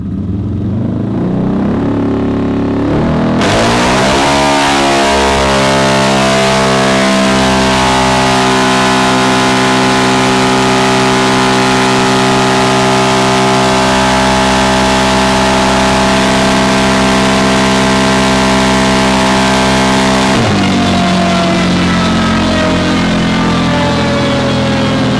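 A CFMOTO engine on a dyno revs up hard and holds a loud, sustained high-pitched drone for many seconds, then drops abruptly back to idle, very close and alone.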